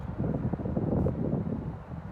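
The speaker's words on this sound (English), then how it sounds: "It is kind of windy today" Strong wind buffets the microphone, producing a continuous low rumbling roar with gusty fluctuations throughout.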